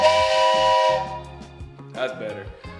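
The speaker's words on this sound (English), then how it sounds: "A train whistle typically isn't in my gym." A loud, shrill steam-style whistle blows for about a second, then fades into quieter hissy tones and scattered noise.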